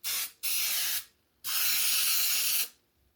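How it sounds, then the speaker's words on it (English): Butter sprays onto a hot waffle iron in two bursts, a short hiss and then a longer steady one, loud and close with no talking. "Let's put our butter on it."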